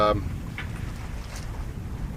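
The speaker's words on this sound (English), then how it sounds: "we've got a very nice, just little, 10 to 12 knot breeze, and it's perfect. We're sailing." Sailboat under sail in a light 10 to 12 knot breeze, a steady low rush of wind and water close by, with a brief voice near the start.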